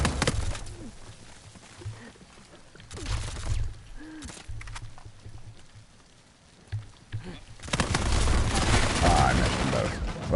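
M14 rifle gunfire in the video game Uncharted: intermittent bursts of shots come in scattered clusters, with a heavier volley near the end, mixed with game ambience and a soft cooing-like tone.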